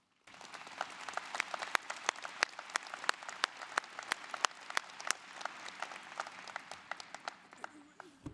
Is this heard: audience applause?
yes